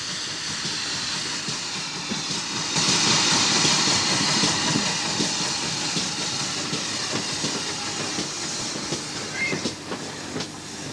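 Steam locomotive L94 of the Metropolitan line rolls steadily through tunnels, with a continuous loud rumble, hiss and faint clickety-clack of the wheels on the rails.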